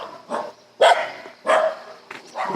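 Several dogs bark in repeated bursts at a rural country house in Haemi-myeon, Seosan, South Chungcheong, loud and fairly close, with short pauses between volleys.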